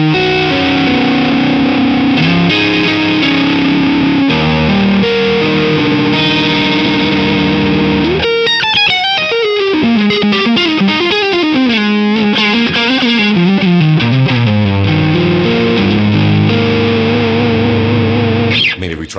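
Electric guitar strums chords through the Archetype plugin presets, heavily distorted with chorus and echo effects, shifting into wobbling pitch-bent lines midway, loud and sustained throughout.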